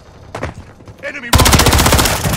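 Rapid automatic gunfire from a Call of Duty: Modern Warfare 3 multiplayer match, scattered shots building into a loud, dense burst of sustained fire that runs to the end.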